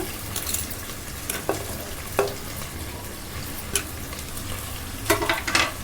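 Onions frying lightly in a pan with cloves and bay leaf, a constant broad sizzle under sparse clicks and scrapes of a stirring spoon, close by and no one speaking.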